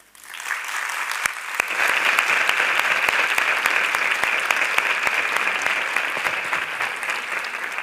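A live literature event audience breaks into loud, sustained applause to welcome author Alice Kellen, swelling quickly and holding as a dense clatter of many hands for several seconds.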